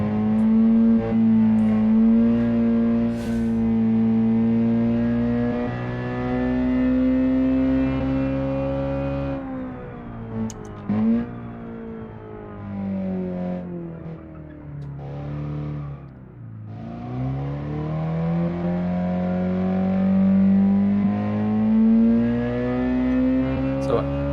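A small, light early Cisalpina sports car on skinny tires, driven in BeamNG.drive, revs its engine high and strained, rising and falling through shifts with a buzzing, raspy tone; someone talks over it.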